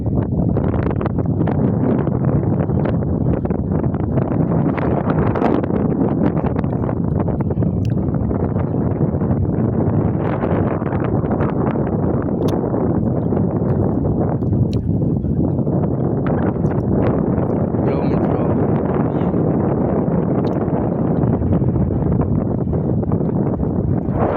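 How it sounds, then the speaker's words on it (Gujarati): Strong wind sweeping across open village countryside near hills, a steady loud broadband roar buffeting the microphone for the whole stretch, with gusts swelling and easing and no voices. "મિત્રો જે પવન આવે ને અટાણે ખતરનાક"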